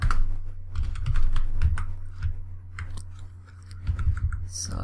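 Java code is typed on a computer keyboard in a run of crisp, irregular key clicks at close range, with short pauses and bursts of faster strokes.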